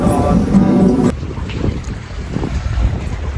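Strong wind roars and buffets the microphone in gusts at a reservoir while fishing, with a short tonal hum at the very start.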